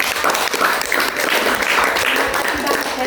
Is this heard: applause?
yes